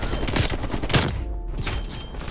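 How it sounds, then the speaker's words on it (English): Rapid AK-47 automatic fire from the Call of Duty: Cold War video game, a dense burst of loud, close shots with sharp transients around the first second, then fading into a mix of game effects. "we're just shooting, man"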